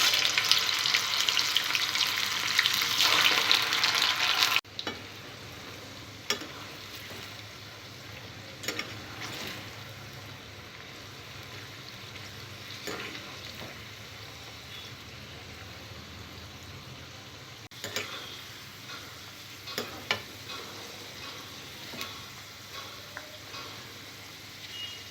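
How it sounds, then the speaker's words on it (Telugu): Ivy gourd (dondakaya) pieces fry in oil reused from pakodi, giving a steady soft sizzle that starts with a brighter hiss and settles into quieter bubbling with occasional stirring clinks. "పకోడీ వేయించుకున్న ఇదే ఆయిల్లో దొండకాయ ముక్కల్ని కూడా ఫ్రై చేసుకోవాలి"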